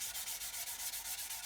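Fine 600-grit sanding sponge rubbed back and forth over a surface in steady, rhythmic strokes, a soft close scratchy swish repeating about every tenth of a second with no talk.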